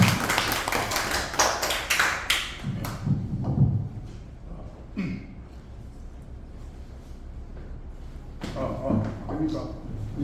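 Audience clapping and applause welcoming speakers at a civic group seminar, loud and dense at first, then fading under a speaking voice before a fresh burst of clapping near the end.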